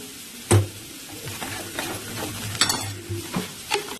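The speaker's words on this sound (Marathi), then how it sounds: "कांदा चांगला गोल्डन रंग होईपर्यंत आपल्याला परतून घ्यायचा आहे" Onions sauté in oil with turmeric while a spoon stirs and scrapes the pan, giving a close, steady sizzle broken by several sharp knocks of the utensil against the metal, with no talk.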